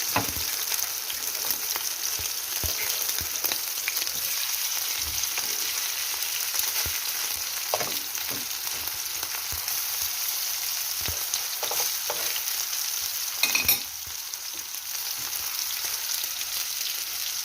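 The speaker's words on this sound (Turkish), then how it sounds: "Yağlar sıçramaya başladı." Hot oil sizzles and spits steadily in a pan after fruit compote is added, a continuous close hiss broken by sharp pops and crackles, with a brief louder flare of splattering near the end.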